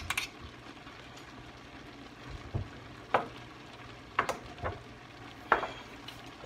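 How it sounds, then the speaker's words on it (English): A spoon stirs seasonings such as turmeric into cabbage soup in a pot, giving a few soft, separate scraping clunks and knocks against a quiet background, with no talking. "Now we're going to give this a stir. Stir all those seasonings up."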